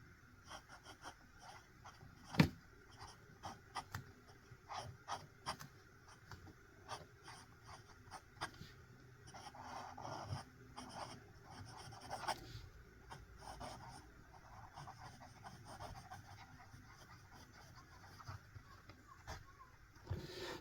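A Platinum #3776 fountain pen nib, stiff and responsive, scratching across paper in close, quiet strokes with a sharp tap early on and an uneven rhythm of short writing bursts, with no talk.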